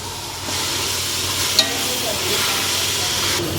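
Tamarind leaves dropped into a pan of mutton curry and stirred, giving a steady close sizzle and hiss with faint scraping of the spoon and one small clink.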